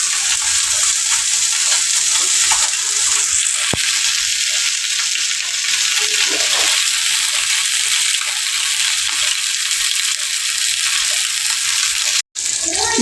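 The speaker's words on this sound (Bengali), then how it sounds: "এদিকে মাছ ভাজা হচ্ছে" Fish frying in hot oil on a home stove gives a loud, steady sizzle throughout, with a sharp brief clatter near the end and no talking over it.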